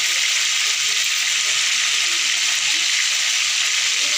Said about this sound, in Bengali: পোলার চাল ভেজে নিচ্ছে